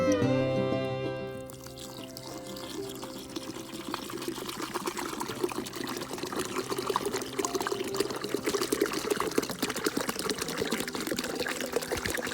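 Homemade vinegar weed spray mixture is poured into a sprayer, a steady liquid stream trickling and gurgling at close range for several seconds after a brief louder start.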